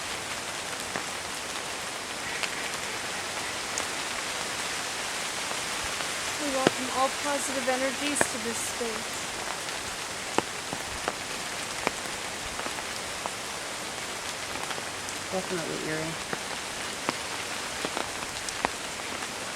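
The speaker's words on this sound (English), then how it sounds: "The rain's getting harder and harder." Steady heavy rain pours down continuously, with scattered drips and splatters, while people speak briefly under the downpour.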